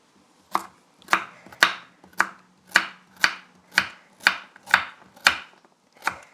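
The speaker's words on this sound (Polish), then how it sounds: "kroję marchewkę" A carrot is sliced with a knife on a board in about ten crisp, evenly spaced chops, close and clear with no talking.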